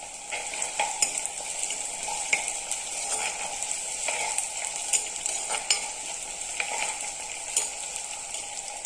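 Ginger, green chili, garlic and curry leaves sauté in a pan for a neymeen fish curry, giving an even, moderate sizzle punctuated by regular light clicks of stirring.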